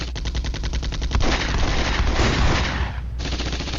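Rapid, loud bursts of automatic gunfire and heavy cannon shots ring out in a tank battle in a modern military video game, a fast rattling stream followed by a dense fusillade that cuts off sharply near the end.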